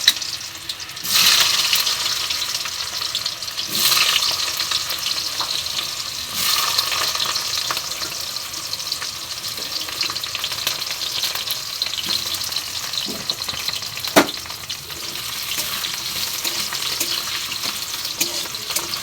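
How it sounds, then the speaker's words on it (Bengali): Boiled potatoes fry in hot oil in a pan, a steady broadband sizzle running throughout with a few sharper bursts and spatula scrapes as the pieces are moved, close and fairly loud, with no talking. "তেল গরম অলরেডি বসিয়ে দিয়েছি, এর মধ্যে একটু আলুটাকে ভেজে নেব।"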